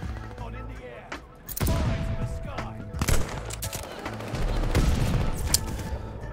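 Rapid gunfire sprays a corner in a first-person shooter video game, loud bursts of automatic shots cracking in close succession with brief lulls between volleys.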